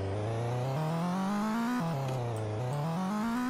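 A fast car in the video game Garry's Mod roars loudly and continuously, its engine pitch climbing steadily as it accelerates, then dropping and rising again with gear shifts.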